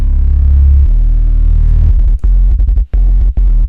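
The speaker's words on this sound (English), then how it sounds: "I got a mid bass, which sounds like this" A mid bass synth patch built with stock FL Studio plugins for a Dariacore hyperflip track, heavy and sustained at first, then chopped into loud rhythmic stabs that follow the chord pattern, with no voices.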